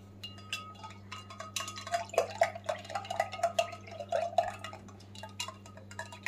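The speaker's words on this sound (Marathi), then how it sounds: "मी स्ट्रॉने हलवलेलं आहे पाणी." A straw stirs salted mint water in a glass, giving soft liquid swishes and a rapid run of small clinks and drips, quiet and close, with no voices.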